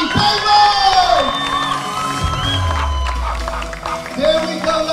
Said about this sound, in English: Here we go, start the clapping.